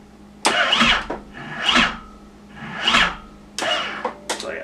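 A snowmobile with a dead, nearly drained battery tries to start, giving four or five slow, labored cranking groans in separate bursts, each dragging and dying out without catching.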